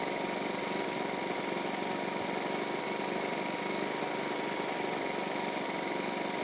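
Go-kart engine in Farming Simulator, a steady high buzzing drone held at constant pitch and loudness, close and continuous throughout.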